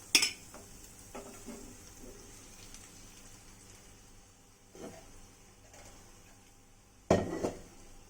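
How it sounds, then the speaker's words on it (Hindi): Prepared gravy goes into fried masala in a cooking pan: a sharp metallic clatter at the start, scattered scrapes and taps of a utensil against the pan, and another loud clanking burst near the end, with no talking. "तो अब इसमें मैं ये जो ग्रेवी के लिए तैयार किया है इसको ऐड कर दूंगी।"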